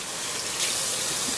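Hot water runs steadily from a kitchen tap into a jar, a continuous close hiss and splash that swells slightly partway through, with no talking.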